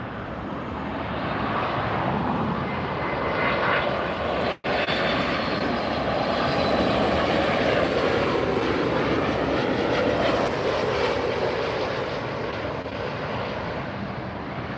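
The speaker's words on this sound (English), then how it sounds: "You can see an arrival coming in on the far side, and here's our Southwest bullet." Southwest Airlines jet landing at LAX airport, a steady broadband engine roar held close and loud for the whole stretch, with one abrupt momentary dropout midway and no voices.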